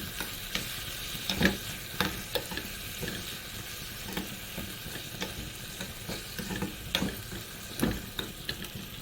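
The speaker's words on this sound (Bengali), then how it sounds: "দিয়ে দিচ্ছি একটু চিলি পাউডার, একটু নেড়ে ছেড়ে নেবো।" Chili powder and spices being stirred in a hot pan, with a soft continuous sizzle of frying and repeated scraping strokes of the spoon every second or so, close and moderately quiet.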